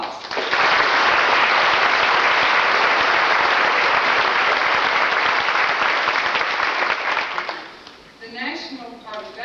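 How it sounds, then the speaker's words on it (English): A high school honors night audience in Gallatin, Tennessee bursts into sustained, dense applause in a hall, loud and steady for about seven seconds before fading out, with a voice starting to speak as it dies away. "Let us give these people a round of applause"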